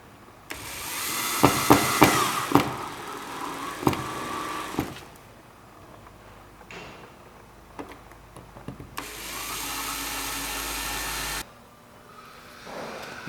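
Power screwdriver driving screws to secure a Lionel FasTrack track section on a modular layout, several whirring bursts of varying length with clicks and handling noises between them.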